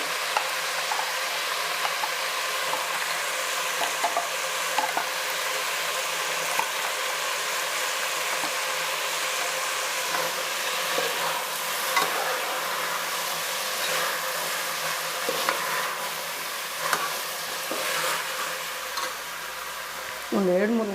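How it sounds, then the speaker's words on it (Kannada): Ground wet masala frying in oil in a pan, a steady broad sizzle with occasional stirring scrapes running continuously at moderate level, no voices. "ಮಸಾಲೆ ಜೊತೆಯಲ್ಲಿ ಸ್ವಲ್ಪ ಹೊತ್ತು ಫ್ರೈ ಮಾಡೋಣ"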